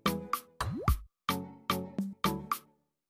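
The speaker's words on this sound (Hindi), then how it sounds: "बॉईल किए हुए छोले ऐड करेंगे और उनको भी ग्रेवी के साथ 2 से 3 मिनट भून लेंगे।" Boiled chickpeas drop one after another into chole gravy in a pan, making about eight distinct wet plops in an uneven rhythm, close and clear, with no talking.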